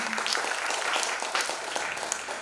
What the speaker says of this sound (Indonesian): Ya boleh beri tepuk tangan.